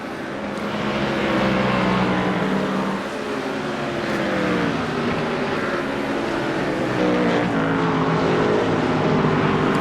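A McLaren race car in a sim racing video game drones steadily as its engine climbs and falls in pitch through corners and exits, loud and continuous with other cars faintly mixed in.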